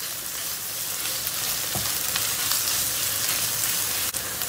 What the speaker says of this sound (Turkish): Salçamız iyice kavruldu.